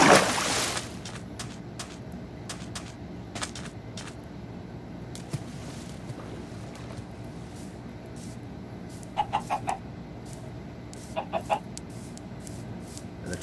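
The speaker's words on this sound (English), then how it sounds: "Another chicken." A chicken clucking in the Minecraft video game, with short clipped clucks scattered over steady game background noise. A louder burst opens the sequence, and small clusters of clucks return near the end.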